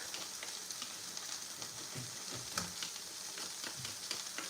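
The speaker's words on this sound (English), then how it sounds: "adding it to the onions and oil in the pan" Grated ginger and garlic frying with onions in hot oil in a pan, a steady, dense sizzle with faint crackles and occasional stirring scrapes throughout, close and continuous.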